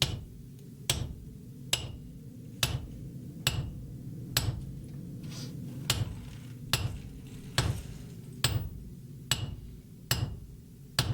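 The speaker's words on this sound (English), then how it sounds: "Bro is hammering." Hammering in a video game: sharp metallic strikes land roughly once a second, about a dozen in all, evenly paced over a low background hum, fairly close and distinct.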